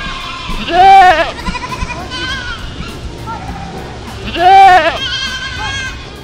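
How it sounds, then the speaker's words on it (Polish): A goat bleats twice, each a loud wavering cry, with quieter vocal sounds and bleats in between. "Koza meczy!"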